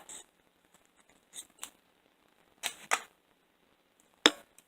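Crochet yarn snipped with scissors to finish off a snowman piece: a few quiet, brief clicks and snips scattered across near-silence, with one sharper cut near the end.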